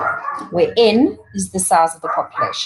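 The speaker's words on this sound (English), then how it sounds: "Please excuse my dogs." Several dogs bark and yip in a quick, uneven series close by, mixed in with someone talking over them.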